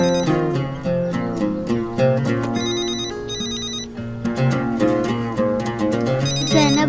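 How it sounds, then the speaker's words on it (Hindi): A phone ringtone plays loudly and close, a repeating electronic melody cycling through its tune without any voices. "जैनब पापा, अम्मी का फोन है क्या?"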